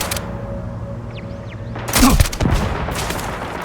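Gunfire in Starfield as turrets are shot at, a loud burst of shots around the middle over a constant low game hum, with faint whooshing effects earlier.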